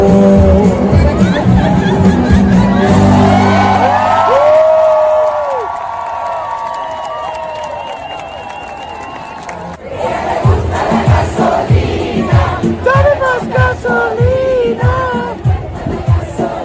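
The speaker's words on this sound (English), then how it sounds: "Everybody's cheering each other on." A crowd of protest marchers cheers and shouts together, a loud dense roar with rising whoops, easing off midway before another burst of lively cheering and voices returns.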